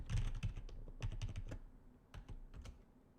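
Password typed on a computer keyboard while setting up a Linux server, with clusters of quick, close key clicks in short bursts separated by brief pauses.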